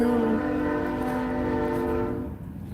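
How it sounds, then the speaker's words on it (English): Loud train passing close by, with a steady roar of wheels and a sustained multi-tone horn blast that fades near the end. "Let me wait for this damn loud-ass train to come by, bro."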